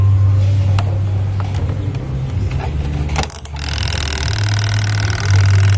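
The motor of an American Home washing machine, with repaired chewed wiring, hums steadily and close, briefly cutting out and restarting with a scraping clatter.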